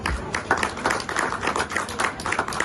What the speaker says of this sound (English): just a big round of applause and thanks everyone from the club